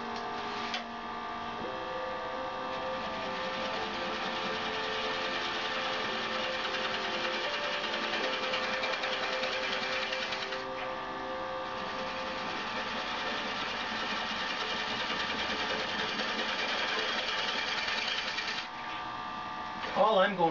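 A wood lathe turns a bowl at about 300 RPM, giving a steady mechanical hum with a continuous scraping cut throughout, fairly quiet and even, ending with a few sharp clicks.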